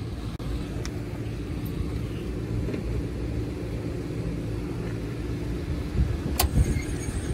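An HVAC blower fan comes on and keeps running, making a steady, loud whooshing rumble with one faint click near the start and no voices.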